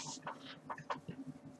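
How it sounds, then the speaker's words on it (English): Chickens cluck in a block-building video game, several short, soft clucks and chirps scattered over a faint steady background hum. "And what's up with these chickens?"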